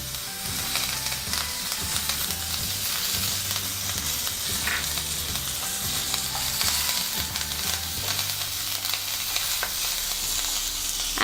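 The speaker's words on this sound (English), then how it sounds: "Add urad dal. We need to cook it on a medium flame for 2 to 3 minutes." Urad dal and curry leaves fry in hot oil for a tadka, giving a loud, steady, close sizzle that runs through the whole stretch with no talking.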